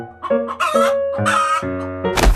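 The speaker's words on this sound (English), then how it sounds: "Chicken." A cartoon chicken clucks in a quick series of loud, close, tonal squawks, several short calls in a row ending in a brighter burst.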